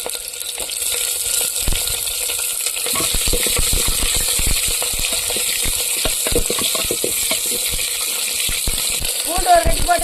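Onions sizzling in a pan after mustard seeds and curry leaves for a village-style ragi kali and greens meal: a steady hiss with scattered crackles and pops, growing busier after the first few seconds.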